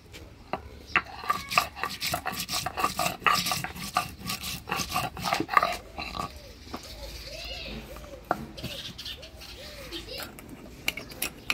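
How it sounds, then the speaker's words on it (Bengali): Ginger, cumin and coriander are ground together on a stone slab, with a rough rubbing and scraping rhythm whose strokes come close and fairly loud. A voice is heard at times over the grinding. "আদা জিরা ধনে একসাথে বেটে নিব।"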